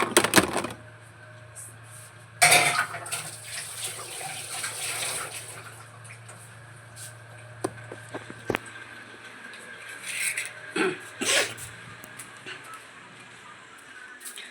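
Dishes being scrubbed and washed by hand at a home sink under running water, with clinks of utensils and a steady water stream throughout.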